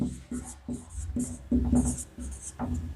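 A teacher writes on a board during an English class with chalk or marker strokes in short, repeated bursts of scratchy scraping. A voice murmurs faintly underneath.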